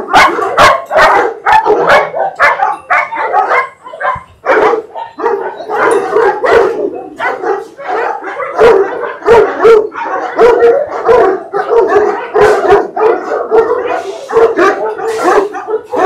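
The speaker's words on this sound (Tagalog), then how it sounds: "Inilibot ko rin si Bahaghari sa kennel ng malalaki kong aso" Several large kennel dogs bark, yip and howl in a loud, continuous overlapping chorus, with sharp repeated barks throughout.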